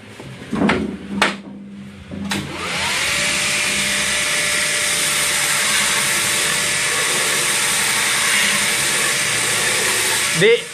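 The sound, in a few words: grinding a knife blade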